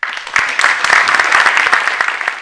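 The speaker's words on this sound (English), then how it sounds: "So please give a round of applause for Maxime" Audience applause for a speaker being introduced at a talk, a brisk burst of many hands clapping close and loud, building quickly and holding steady for a couple of seconds.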